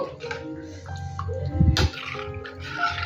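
Water is poured into a pot of lentils being cooked on their own for dal. It comes as a short, fairly close splashing pour in the middle of a quiet kitchen background.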